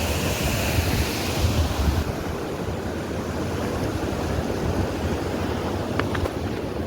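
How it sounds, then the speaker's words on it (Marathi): A strong river current rushes at Barvi Dam, a loud, constant broadband roar of moving water with heavy wind buffeting, and no talk. "इथे खूप प्रवाह आहे, पाणी आहे"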